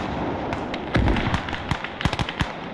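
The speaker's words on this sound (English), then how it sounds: "I think the howitzer just nailed him, maybe." Howitzer shells bursting in Gates of Hell Ostfront, a World War II combat game: a rapid, crackling series of thumping explosions over a steady noisy battlefield backdrop.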